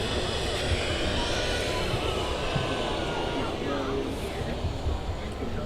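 Jet2.com Boeing 737 airliner at Manchester Airport, a steady broad jet-engine roar heard from a distance, continuous and fairly loud, with a voice talking over it.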